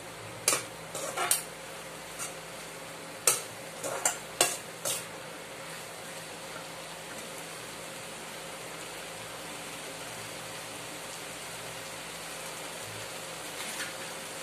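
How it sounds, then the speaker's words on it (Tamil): Tomatoes sautéed in oil for chutney: a soft, steady sizzle runs underneath while a utensil scrapes and clinks against the pan in a quick cluster of strokes, then again near the end. "அந்த தக்காளியோட அந்த பச்சை ஸ்மெல் போற வரைக்கும் நல்லா வதக்கணும்"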